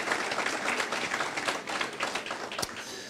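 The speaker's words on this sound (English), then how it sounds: "let's have a round of applause." An audience applauds at a South Asian heart disease outreach evening event, a dense, fairly faint patter of many hands clapping steadily for a few seconds.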